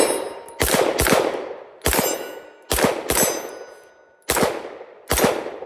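Gunshots from a Sig P365 X Macro pistol ring off steel targets outdoors, with six sharp reports each followed by a metallic clang that decays, spaced irregularly about a second apart.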